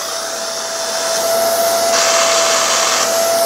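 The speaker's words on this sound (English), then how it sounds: "So let's turn the Hoover on." A Hoover Clean Slate carpet spot cleaner running, a loud, steady motor whine with a constant tone that swells slightly partway through and stays close and continuous, with no voices.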